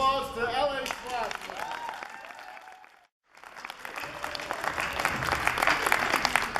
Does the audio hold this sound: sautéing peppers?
no